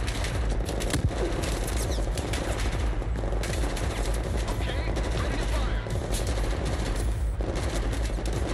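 Dense, continuous gunfire from Battlefield 4, with overlapping automatic bursts and rapid shots running steadily through the whole stretch, occasional voices faintly underneath.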